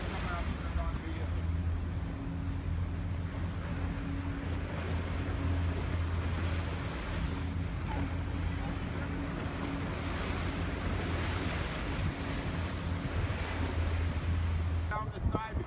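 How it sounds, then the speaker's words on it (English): Rough, storm-driven sea surges and churns without a break, with a steady roar of wind buffeting the microphone and a low droning hum running underneath the whole time. "The water's too rough."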